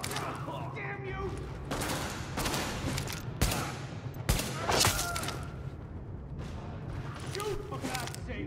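Gunfire trades back and forth in The Division, a dense fusillade of bursts and single cracks rolling on under a steady battle din, with a couple of heavier thumps standing out midway.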